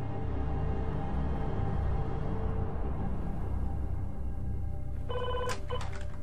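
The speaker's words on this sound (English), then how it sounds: "I think we have to answer it. Every phone call to the Lamplughs became an ordeal" A telephone rings briefly near the end, a few short trills over a steady background hiss, during a tense five-day search for a missing person in 1986.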